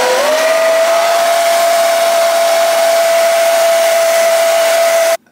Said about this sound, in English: We're gonna make sure we're using the cold or the cool setting on our blow dryer.